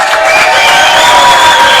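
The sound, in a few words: crowd applauding at racquetball world championships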